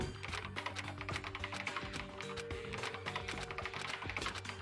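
Keyboard keys clatter in a fast, continuous run of dense clicks in the Danganronpa video game, steady and close with no pauses and no talking.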